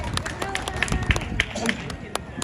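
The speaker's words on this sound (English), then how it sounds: "Please, a round of applause." Audience applause for the mayor at a Hmong American Day event in Fresno, California: scattered clapping and crowd murmur mixed together at moderate level, with no single voice standing out.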